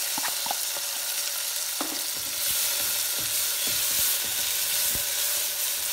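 Onion, tomato and curry leaves sauté in a pan while cooking dal rice, giving a steady close sizzle and frying hiss with scattered small pops and crackles and occasional stirring clinks, with no talking.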